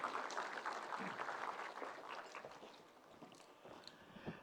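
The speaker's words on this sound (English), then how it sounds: "A round of applause, please." Audience applause fills a conference hall at an AI summit in India, a dense, steady clatter of many clapping hands that gradually thins toward the end.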